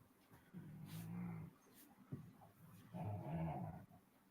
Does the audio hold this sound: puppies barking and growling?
yes